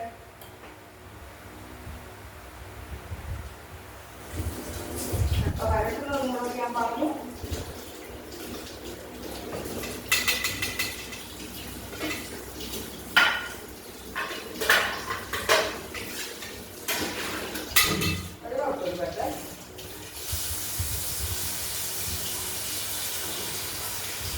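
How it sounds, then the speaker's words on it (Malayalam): An idli steamer pot clanks onto a stove and water pours into it, with scattered metallic knocks and rattles, a running-water stretch, then a steady hiss near the end. "ആദ്യം ഞാൻ ഇഡലിപ്പാത്രം പാത്രം അടുപ്പത്ത് വെച്ച് വെള്ളം ഒഴിച്ച് തീ കത്തിക്കട്ടെ കേട്ടോ"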